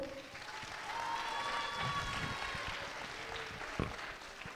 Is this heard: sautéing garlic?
no